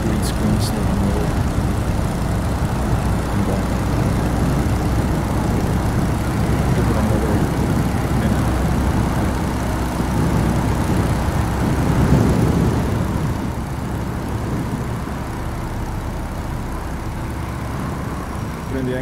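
A De Havilland DH82 Tiger Moth piston engine drones steadily in the MSFS2020 flight simulator game, a loud, continuous low rumble that swells slightly midway and then eases.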